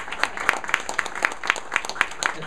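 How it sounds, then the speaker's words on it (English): An audience applauds at a neighborhood library reopening celebration, with a steady, rhythmic run of clapping from a moderate distance, fairly loud and alone, with no voices over it. "Another round of applause for our Mayor, Reese Parker."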